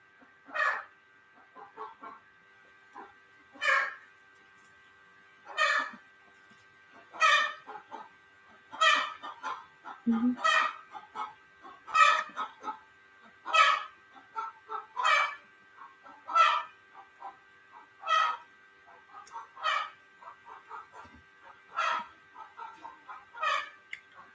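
A chicken clucking in a steady, evenly spaced series of short calls, about a dozen bursts repeating every couple of seconds, moderately close and alone with no talk.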